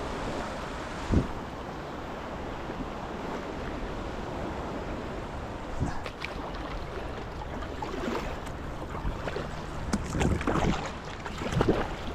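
River water churns and swirls in a powerful eddy on the Lower Cottonwood River beside a solo kayak, a steady rushing wash with wind buffeting the microphone and a few close knocks and splashes.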